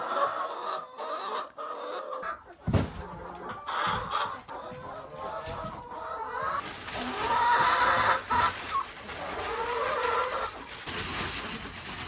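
Chickens clucking inside a winter coop, a steady mix of close, moderately loud clucks and fowl calls with bursts of rustling that continue throughout.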